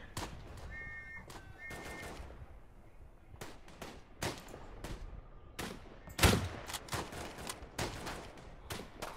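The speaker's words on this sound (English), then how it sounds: "that machine gun's really blaring" Bursts of machine gun fire and scattered gunshots in the World War I shooter game Tannenberg, irregular sharp cracks at varying distances, some faint and far, one loud close blast, over a quiet background.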